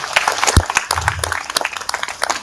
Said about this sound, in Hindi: एक बार जोरदार अपने लिए तालियां बजा दो।